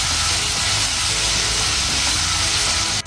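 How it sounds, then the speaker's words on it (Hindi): Chicken sautés in a pan seasoned with pepper and cinnamon powder, giving a steady, loud, close sizzle and hiss throughout that is briefly interrupted at the very end. "इसको अच्छे से मिक्स करके चिकन को सॉटे करेंगे"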